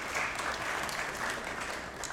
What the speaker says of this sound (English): Let's hear it for Zaw, everybody.